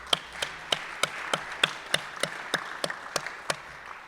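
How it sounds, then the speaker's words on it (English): Birthday applause at a Rotary Club meeting: about a dozen sharp, evenly spaced claps in a steady rhythm, heard close and fairly quiet, like a single person or a few people clapping over a remote connection. "So let's give them a happy birthday applause."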